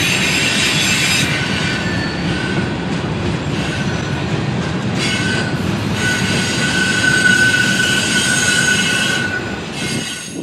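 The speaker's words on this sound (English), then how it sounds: "Here, we see UP 1943, the spirit of Union Pacific," Union Pacific locomotive UP 1943 leads a train past a road crossing, with loud, steady rail roar, clacking wheels and sustained high wheel squeal rising and fading over ten seconds, close by.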